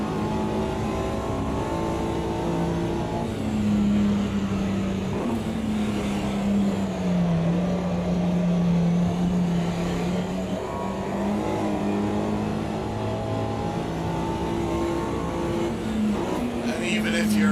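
Mini Cooper race car engines in the racing game Automobilista 2 at Brands Hatch drone steadily, with pitch rising and falling as the cars shift and corner and a voice talking over them.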